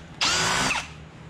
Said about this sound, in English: Make sure you drill through